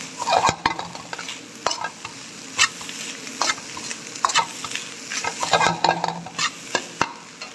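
Chicken rice masala sautés in a pan, sizzling softly beneath frequent sharp scrapes and taps of a spoon stirring against the metal, irregular and close.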